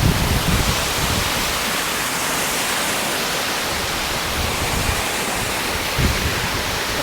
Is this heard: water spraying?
yes